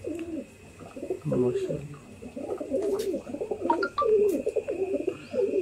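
Neel dumay and kalduma pigeons kept by a pigeon fancier in Sialkot coo in soft, repeated rolling phrases close by, with a few light chirps mixed in and someone speaking briefly over them.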